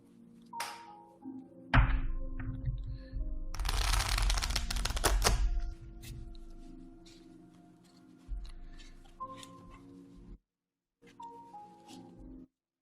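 A deck of psychic reading cards is shuffled close by in one dense riffling burst of rapid clicks and flutters, framed by soft thumps and handling noise in a quiet room.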